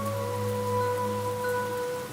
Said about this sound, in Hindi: तेज बारिश हो रही थी।